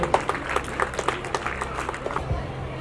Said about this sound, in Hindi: चाहूंगा कि इन छोटे बच्चों के लिए एक बार जोरदार ताली जरूर बजा दीजिए।